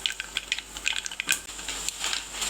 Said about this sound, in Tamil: கடுகு நல்லா வெடிக்க ஆரம்பிக்குது.